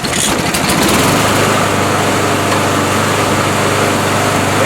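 A repaired lawn mower engine runs loud and close at a fast, steady idle. Its even buzzing drone holds throughout without a break.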